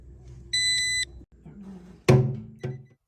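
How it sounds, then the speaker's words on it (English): A Nokta AccuPoint metal detector pinpointer gives its lost alarm, a short burst of high electronic beeping, followed by a few dull thunks and clicks nearby. "it will continue beeping and the light flashing until the battery goes dead"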